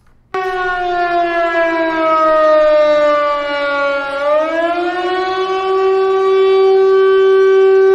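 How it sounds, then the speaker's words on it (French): A loud civil defense siren in Nice, sounded for a storm, starts abruptly and holds a steady wailing tone, dipping and rising in pitch partway through, sounding alone. "On a activé la sirène à Nice."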